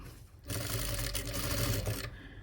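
A sewing machine stitches the corner of a shawl in one short, steady mechanical run, close and fairly quiet, starting and stopping abruptly.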